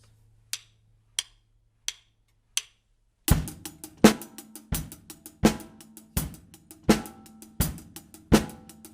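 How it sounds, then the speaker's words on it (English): A drum kit plays a steady rock groove after four sharp count-in clicks, kick and snare hitting in a regular pattern with a bright, close sound. "This is 8 measures of your rock groove."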